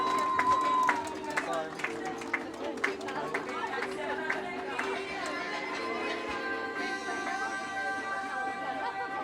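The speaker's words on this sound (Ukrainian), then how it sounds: "Дайте оплесків!" Spectators at the finish of a 10 km running race in Yahotyn clap in scattered bursts for the winner, the claps mixed with crowd chatter and a voice talking over them.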